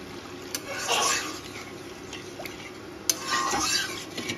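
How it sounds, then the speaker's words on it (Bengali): Mustard paste in a pan for Bengali rui posto fish curry is stirred after water is added, giving soft scraping and liquid swishes in two clear bursts, with faint pan clinks between them. "এবার আমি জল দিয়ে দেবো"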